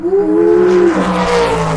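Race car engine revving as a sound effect, a loud close rising whine that climbs, dips briefly, then swells again with a squealing edge, heard alone without talk.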